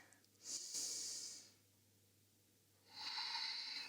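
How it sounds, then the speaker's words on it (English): Two long, breathy inhales during a yoga lunge stretch, the first lasting about a second and the second starting near the end, separated by a quiet pause, close and soft with no talking. "Inhale here."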